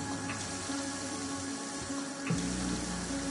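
Water runs steadily from a tap as a player character drinks in the sci-fi video game Prey, a continuous close hiss of flowing water with a slight bump near the end.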